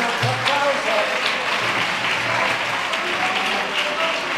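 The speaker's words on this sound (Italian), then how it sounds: "facciamo un altro applauso" Audience applause after a university physics lecture, a continuous dense wave of clapping from a full hall with a low hum underneath and some murmuring voices mixed in.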